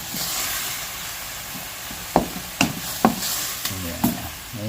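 Food sautéed in a pan, ginisa-style and caramelizing, with a steady sizzle and frying hiss throughout and several distinct scraping stirs of a utensil against the pan in the second half; no talking.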